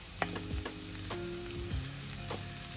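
Cooked rice is stirred and tossed into egg fried rice in a hot pan, giving a soft, steady sizzle with a few scraping strokes, fairly faint overall.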